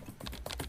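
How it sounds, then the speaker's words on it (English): Quick run of one-handed keyboard typing, a dense patter of close key clicks filling the short moment with no voices over it. "One hand typing."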